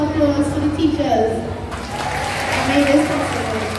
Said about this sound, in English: Let's give a wonderful applause to the teachers.